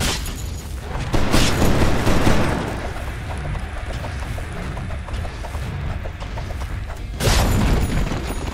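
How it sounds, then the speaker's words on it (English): A Dota 2 tower is destroyed amid a heavy battle, with deep booming impacts and a dense rumbling wash of combat effects, loudest near the start and again toward the end. "Dire's top tower has fallen"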